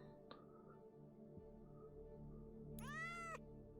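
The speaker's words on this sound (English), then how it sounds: "Don't meow at me." A single short cat meow rings out clearly near the end, after a stretch of quiet background hum and a couple of small clicks.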